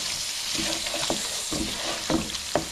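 Yogurt being stirred into paneer in a hot pan, a steady sizzle broken by several distinct scraping stir strokes, close and moderately loud, with no talking.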